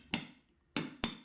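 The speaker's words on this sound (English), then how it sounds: "I'm going to go ahead and use my small ball peen hammer for these." A small ball peen hammer strikes a coin ring held in a metal doming block: three crisp, close metallic taps, the last two in quick succession, each ringing briefly before fading.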